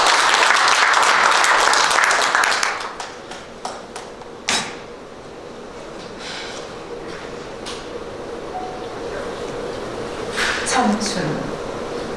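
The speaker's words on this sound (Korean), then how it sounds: "박수 부탁드립니다." Audience applause at a book launch ceremony for an explorer's book, loud clapping for about two seconds that thins into a few scattered claps, then quiet room sounds and speech.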